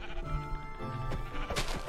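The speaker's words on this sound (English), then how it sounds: "I need to kill this sheep so I can get in a bed." A sheep in the video game Minecraft bleats in a near, loud, wavering, tonal call, heard alone with faint background game sounds.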